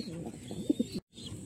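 Pigeons kept for rearing coo in a low, rolling murmur, a few soft throaty calls rising briefly before a short silence and more faint cooing.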